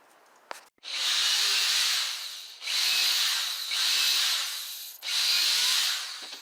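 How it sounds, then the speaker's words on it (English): A power drill whirs in four separate bursts, each about a second long, drilling screw holes in wood close by, with short pauses between runs. "you want to drill the holes for the screws in the corners"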